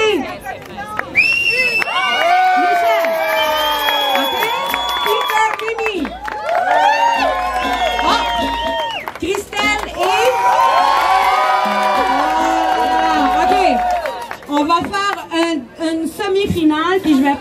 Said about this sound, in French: je vais prendre ceux que les gens ont applaudi le plus